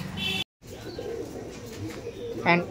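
Giribaz pigeons cooing softly at close range, low gurgling calls over a faint background with a brief gap of silence early on and a sharper chirp near the end.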